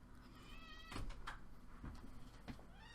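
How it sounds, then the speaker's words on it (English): A house cat meows several times just after a door is opened indoors, short rising calls with a soft bump between them, close and clear in a quiet room. "My cat has opened my door."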